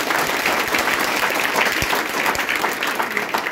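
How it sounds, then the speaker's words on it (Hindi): Audience applause at a student felicitation ceremony, a dense, steady wash of many hands clapping at once, loud and continuous throughout with no talk over it. "आप लोग एक बार सर के लिए जोरदार तालियां बजाइए।"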